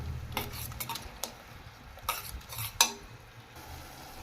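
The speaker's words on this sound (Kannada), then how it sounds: "ಇದು ಹಸಿ ವಾಸನೆ ಆಗೋವರೆಗೂ ಚೆನ್ನಾಗಿ ಫ್ರೈ ಮಾಡ್ಕೋಬೇಕು" A spoon stirs and scrapes onion paste with ginger, garlic, mint and chilli paste frying in a pan for mushroom biryani, giving sparse close metallic clinks and scrapes over a faint, quiet sizzle.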